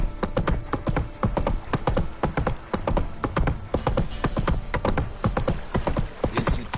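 Roach, a horse in the video game The Witcher 3, gallops in a quick, rhythmic clip-clop of hooves that stays close and steady throughout, with a brief whinny-like sound near the end.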